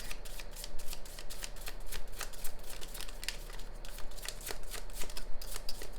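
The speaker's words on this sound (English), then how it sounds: "let's go ahead and get some cards for our Virgos" A deck of tarot cards is shuffled in a steady run of crisp riffling bursts, close and fairly quiet, with no talking.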